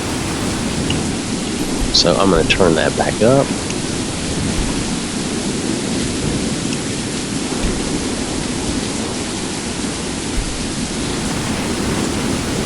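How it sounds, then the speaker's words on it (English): Thunderstorm weather from a Skyrim game mod: steady, heavy hiss of rain with low rumbling thunder throughout, while someone speaks briefly over the storm. "it gives you that feeling of being in an actual storm"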